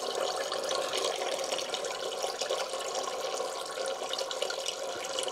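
Automatic transmission fluid drains steadily from a Volvo XC's TG-81SC gearbox, a continuous close splashing, trickling pour that runs without pause and with no talking.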